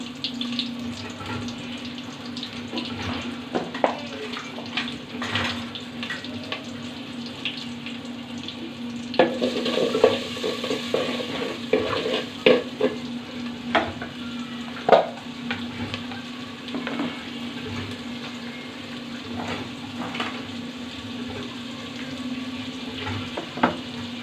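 Bottle gourd and shrimp fry in a pan, a steady sizzle with a low hum and intermittent scraping stirs and clinks throughout.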